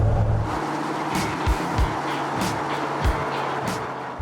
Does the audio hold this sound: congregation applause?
no